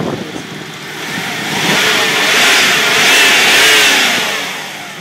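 A Subaru Legacy B4 engine revs up, a broad rising and falling roar that swells twice, loud and close with no talk over it.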